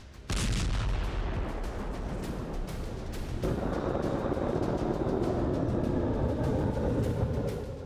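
Missile strikes on an Iranian ballistic missile launcher site in released military footage: a sudden loud blast, then a sustained roaring rumble with crackling debris, continuous and heavy.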